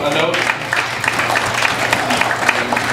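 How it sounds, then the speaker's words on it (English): Comedy club audience clapping, a brief steady round of applause from a small crowd, fairly loud and close, with some voices mixed in. "Please clap it up."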